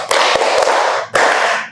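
Classroom children clapping together in a counting clap game, a broad dense wash of many hands with a few sharper slaps, one sustained burst followed by a second burst.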